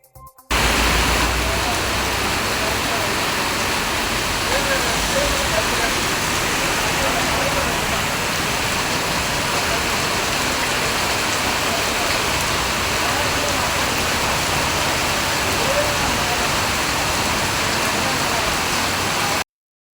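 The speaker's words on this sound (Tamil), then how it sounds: "பரவலாக பெய்த மழையால் சாலைகளில் தண்ணீர் பெருக்கெடுத்து ஓடியது" Heavy rain pours steadily with water rushing along roads, a dense, unbroken hiss of downpour that stays loud and even from start to finish.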